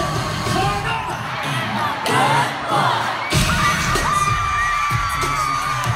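A large concert crowd at a show cheering and screaming loudly and continuously, with shrill shouts and whoops rising over the roar.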